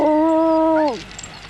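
Huskies kept as working sled dogs at Rothera station in Antarctica let out a long, sustained howl with steady tones that bend and fade near the end, heard close and loud with no talking.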